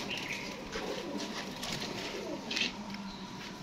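Teddy pigeons coo softly from a nearby coop, low murmuring calls over faint background noise, with a few brief rustles.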